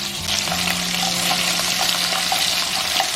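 Scallion, ginger and garlic fry with pork in a hot pan, a loud continuous crackling sizzle that holds steady from start to finish with no talking.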